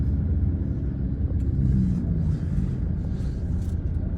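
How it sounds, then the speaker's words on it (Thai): A car drives down out of a building's parking garage in the Pratunam market area off Phetchaburi Road, a steady close engine rumble echoing without pause and no talk. "เอารถลงจากตึกแล้วจะกลับบ้านแล้ว"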